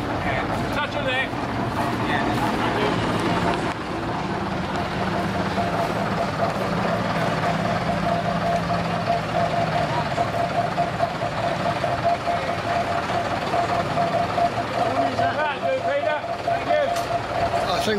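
A classic Leyland PD2 double-decker bus rumbles in at a vintage bus rally at Winkleigh, a steady engine drone close by with people chatting over it throughout.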